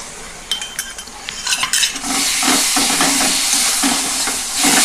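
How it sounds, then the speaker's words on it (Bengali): Spices and garlic paste being stirred in a hot pan for a Bengali Bombay duck curry: a few close metallic scrapes of a spoon, then a strong, steady sizzling hiss. "রসুন বাটা দিয়ে আমি একটু নাড়াচাড়া করে নিয়ে আমি তারপরে 1 মিনিট আমি নেড়ে নিয়েছি।"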